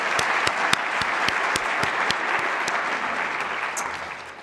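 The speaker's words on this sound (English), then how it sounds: "Can we give them all a round of applause?" Steady, fairly close audience applause fills a symposium hall at an opening ceremony, with a few sharp individual claps standing out before it slowly tapers.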